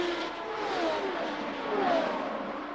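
Champ Car open-wheel racers from 2006 scream down into turn 1 at the Milwaukee Mile, a high engine whine swelling and fading twice as cars pass close, with no voices.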